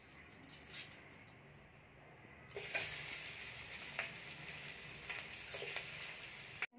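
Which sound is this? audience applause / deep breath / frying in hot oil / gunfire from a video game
frying in hot oil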